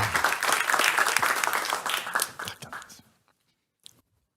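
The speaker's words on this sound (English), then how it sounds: "give a warm round of applause to Minister Forssell" A warm round of applause from a business-conference audience for a government minister, dense clapping for about three seconds before fading out, then a brief faint tap.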